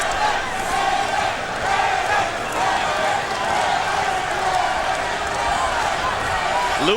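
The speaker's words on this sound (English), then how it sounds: "Lewis's supporters in the crowd chanting for him, Lennox, Lennox, Lennox." A boxing arena crowd at Lennox Lewis versus Ray Mercer, a loud, sustained roar with rhythmic chanting swells for Lewis rising and falling over the noise, a commentator's voice also present.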